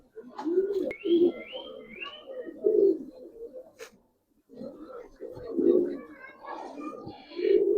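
Old-generation giribaz pigeons give soft, throaty coos close by in repeated bursts. The calls stop briefly near the middle, then the cooing resumes.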